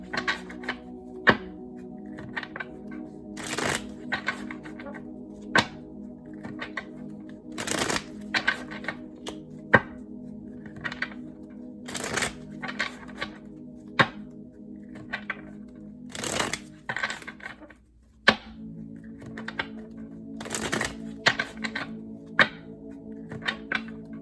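Tarot cards are shuffled by hand in a steady run of crisp riffling bursts and soft slaps, repeating at a brisk irregular pace for over twenty seconds over a faint background hum.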